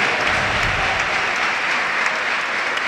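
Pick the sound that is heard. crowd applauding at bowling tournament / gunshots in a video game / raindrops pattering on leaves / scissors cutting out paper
crowd applauding at bowling tournament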